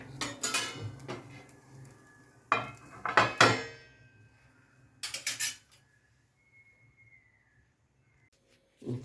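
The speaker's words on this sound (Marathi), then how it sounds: "ह्याच्यावर आता आपण झाकण ठेवूया" Metal clanks and clatters from a pan and lid while green peas uttapam cooks, in several short bursts separated by near silence, ending with one more clank.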